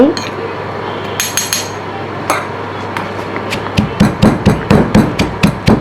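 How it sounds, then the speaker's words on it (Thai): Curry paste ingredients, including galangal, lemongrass and chili, being pounded in a mortar, with sharp wooden knocks that start scattered and then settle into a steady, fast rhythm, close and loud. "โขลกต่อนะคะ ให้ละเอียด"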